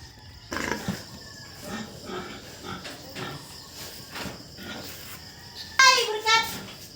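A backyard farm pig grunts in short rough bursts, close and moderately loud, with a sharper squealing burst near the end, while people talk and call out over it.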